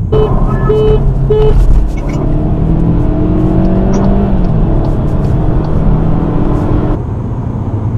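A car engine revs and pulls harder, a steady rising drone with road and wind noise, loud and close throughout.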